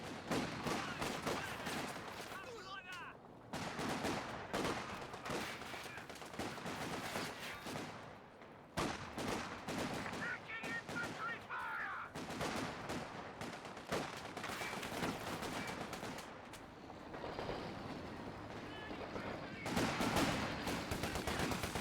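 Maxim machine gun fire in a World War-era strategy video game, dense bursts of gunfire mixed with other weapons and explosions running almost continuously, with a commentator's voice faintly underneath.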